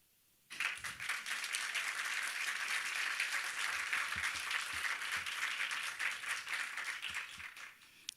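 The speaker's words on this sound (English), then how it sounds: "you just got a round of applause" Applause breaks out suddenly after a brief quiet and holds steady from an audience at a women's forum, dense rapid clapping from many hands at fair distance, tapering slightly toward the end.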